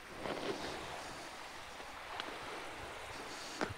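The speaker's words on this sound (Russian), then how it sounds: "Какой шелест волн." Sea waves rustle softly on the beach at Blagoveshchenskaya near Anapa at sunset, a faint, steady hiss of surf with light wind and occasional soft splashes.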